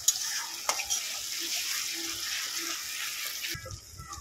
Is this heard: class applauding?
no